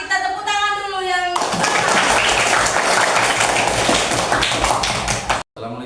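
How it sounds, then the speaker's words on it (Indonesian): A group breaks into applause after a classroom observation session, a dense burst of clapping lasting about four seconds that follows a short tune and ends abruptly before a voice begins. "kita tepuk tangan dulu"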